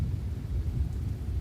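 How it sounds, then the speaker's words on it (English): Heavy rain pours during a storm-chasing tornado game on Roblox, Twisted, with precipitable water at 1.4, a dense steady low rumbling wash with a thunder-like roll and no voices. "Got a ton of rain falling."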